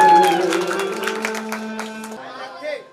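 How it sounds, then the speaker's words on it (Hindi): Audience members clap sparsely beneath sustained singing at a Navdha Ramayan devotional performance, with light scattered hand claps under the melody that fade toward the end. "ताली बजा के"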